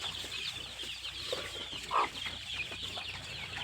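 Country chickens and their chicks cluck softly on a farm with crossbred birds, a faint steady murmur of clucks under a low background hum, with one slightly louder cluck partway through and no talking.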